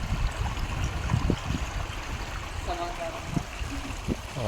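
A shallow river stream flows along a forest riverside picnic spot at Patel Nature Trail, Ramgarh, Nainital, with a steady trickling, gurgling wash close by while people talk and move around over it.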